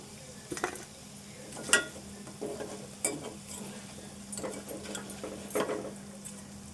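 Potato pieces frying in a pan, a soft, low sizzle broken by scattered scraping and clinking as they are stirred, faint and close with no talking.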